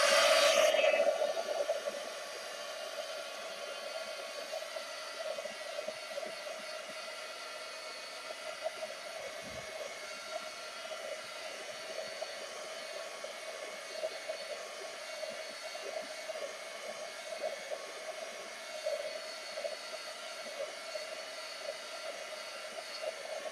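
A hair dryer runs steadily over a journal page, a loud burst at the very start and then a constant whirring hiss for the rest, with no talk.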